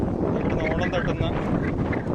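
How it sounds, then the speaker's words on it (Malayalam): Strong wind blows on a riverbank near a parked boat, a loud, steady buffeting rush against the microphone that drowns out other sounds. "നല്ല കാറ്റാണ്."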